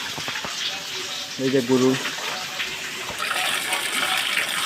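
Water pours and gushes into a cattle feeding trough on a dairy farm, a steady splashing flow that grows louder toward the end. Someone speaks over it.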